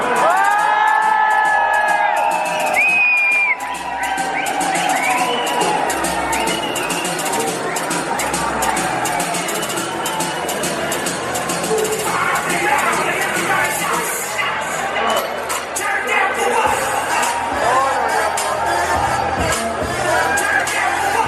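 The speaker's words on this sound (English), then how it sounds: "please give a big round of applause" A large crowd at a Delhi fitness expo cheers, whoops and shouts loudly and continuously, with applause and chatter mixed in after a winner is announced at Pragati Maidan.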